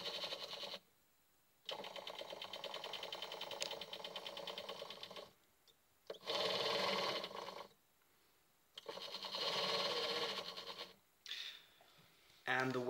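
A small electric motor on a homemade mounting plate drives the gears of a dome drive, giving a steady whirring hum in several bursts separated by pauses, with talking heard in between.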